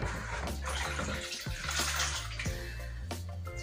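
An item being rinsed off under running water, a loud continuous splashing flow broken by a few brief pauses and shifts, with no voices.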